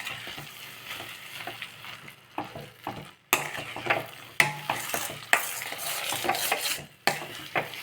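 Mixed vegetables cooking for a savory-sweet vegetable puttu, softening with jaggery in a pan, sizzle low under repeated scraping stirs and metallic clinks of a spoon against the pan, close and fairly quiet.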